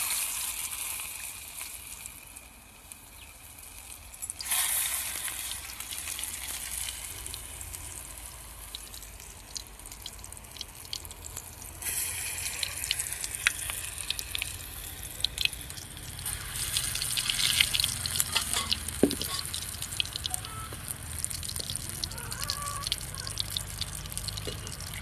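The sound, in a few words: frying food in hot oil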